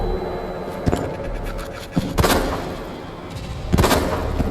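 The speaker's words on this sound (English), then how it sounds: "I gotta shoot the eyeball." Gunshots fired at a zombie in the video game Resident Evil 2, a few sharp, loud bangs spaced irregularly over a rumbling, scraping game background, with no talking.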